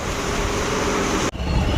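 Heavy rain pours down in a dense, steady roar with a brief sharp dip in the middle, loud and enveloping, no voices.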